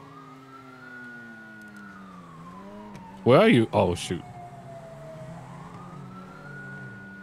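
A police car siren wails in a city-roleplay video game, a steady rising and falling tone running throughout, with a man's brief exclamations cutting in over it.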